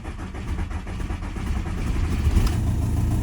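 TDI diesel engine turning over on the starter in a swap project car, a steady loud low churning drone that builds slightly toward the end.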